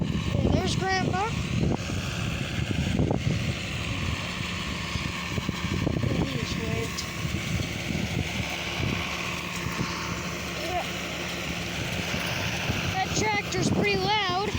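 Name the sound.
tractor running with John Deere 530 baler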